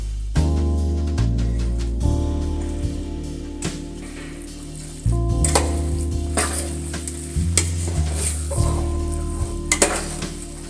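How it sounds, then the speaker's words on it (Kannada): Cooked rice being stirred with salt in a pot using a metal utensil, repeated scraping and clanking strokes with a sizzling undertone, loud and close, no voices. "ಉಪ್ಪನ್ನು ಹಾಕಿ ಚೆನ್ನಾಗಿ ಮಿಕ್ಸ್ ಮಾಡಿಕೊಳ್ಳಬೇಕು ಮಿಕ್ಸ್ ಮಾಡಿಕೊಳ್ಳಿ"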